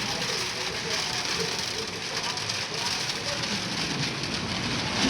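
Heavy rain pouring down with strong wind at a family home in Pakistan, a dense, steady hiss of downpour drumming on surfaces, loud and unbroken throughout.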